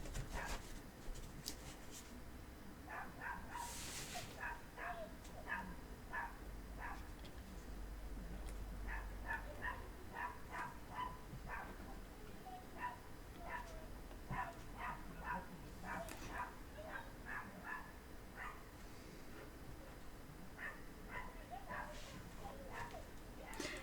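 Neighbours' dogs bark outside in repeated short bursts, faint and distant, with yips and barks over a steady low background hum and occasional close handling noises.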